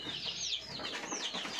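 Chickens in a farm coop, shut in during rain, give off a steady jumble of clucks and chirpy calls with some wing flutter, fairly close and continuous.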